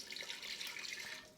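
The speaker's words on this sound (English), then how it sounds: "add in the stock" Stock pours into an Instant Pot of curry with a quiet, steady splashing trickle. The pour is brief and nobody speaks.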